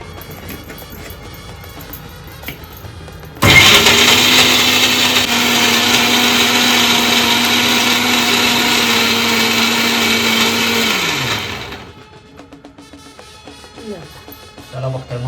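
A kitchen blender grinds vatan spice paste for a stuffed crab dish, starting abruptly and roaring loud and steady for about eight seconds before spinning down, with quieter household sounds around it.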